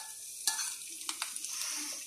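Cumin, asafoetida and chilli sizzle in hot oil for a chana dal tadka, a close, steady frying hiss broken by a few sharp clicks of stirring.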